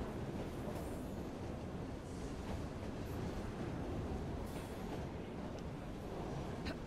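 Train riding sound in the video game Assassin's Creed Syndicate, a steady rushing rumble of rail cars on the move with no clear clicks.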